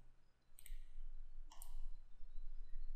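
Two faint, crisp computer mouse clicks about a second apart over a low background hum, clicking a Disable option in Windows 8.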